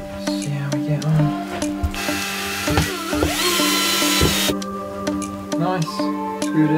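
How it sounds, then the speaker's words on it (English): A power drill whirs in bursts inside a van as screws are driven together, with a sustained high motor whine in the middle, shorter spurts around it, and knocks and clatter close by. "I'm just going to screw it together and then we'll go from there."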